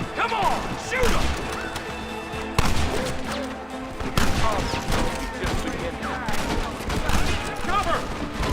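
Dense gunfire from a Red Dead Redemption shootout, rapid overlapping shots and crashing impacts in a sustained, loud volley, with shouted voices mixed in throughout.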